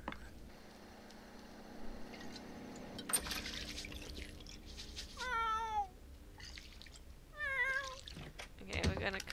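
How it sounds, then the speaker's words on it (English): Two short cat meows from a cat sitting in a food bowl in The Sims life-simulation game, each a rising-falling call heard clearly over soft game background ambience with faint water-like sounds. "There's a cat in the food bowl."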